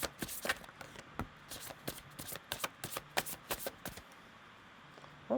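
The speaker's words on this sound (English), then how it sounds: "These cards like flip out in chunks, but I think that's more my shuffling." A deck of rune cards is shuffled by hand, giving quick bursts of papery riffling and flicking in uneven chunks, close and fairly loud, with no talking.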